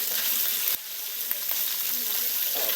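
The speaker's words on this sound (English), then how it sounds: "So it's going to fry up in its own oil." Pork chops fry in their own rendered fat, a steady loud sizzle with a few faint pops and clicks of the pan, Spanish-style chuletas fritas cooking up close.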